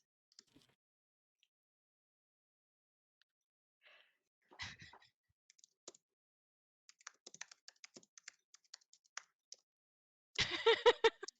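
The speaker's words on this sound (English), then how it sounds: "You've been typing a lot." Scattered computer keyboard typing in a quiet room, sparse soft taps that come in short bursts with long pauses, then a louder flurry of keystrokes at the end.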